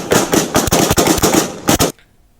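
Rapid handgun shots ring out in police footage, a fast volley of about eight loud, sharp reports fired within two seconds, then silence.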